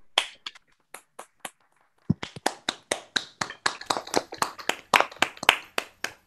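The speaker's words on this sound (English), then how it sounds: "Let's give her a big round of applause." Applause at a virtual reading event: a few scattered separate claps, a brief pause, then one person clapping close up in a quick, fairly even run of sharp slaps that continues to the end.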